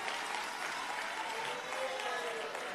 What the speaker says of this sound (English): we thank you and applaud you